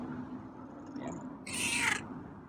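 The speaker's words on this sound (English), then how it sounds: "I like it when you meow like that." A feral neighborhood cat gives a single short, faint meow outdoors, followed by a brief, louder high rustle or squeal.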